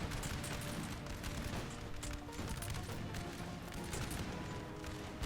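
Grenadier musket volleys in Napoleon Total War during the Battle of Venice, a dense crackle of distant overlapping shots rolling continuously under battlefield noise.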